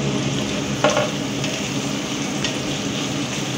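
Capsicum sizzles as it fries in a pan of chilli chicken: a steady, close hiss of hot oil with a brief louder crackle early on, then continuous even frying.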